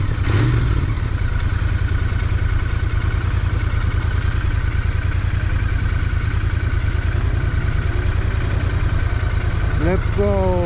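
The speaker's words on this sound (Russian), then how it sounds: "Все смотрят, но мотоцикл красивый" A Royal Enfield Interceptor 650 motorcycle idles close by with a steady, loud, even thumping throb, holding its rhythm throughout, with a brief rising whine near the end.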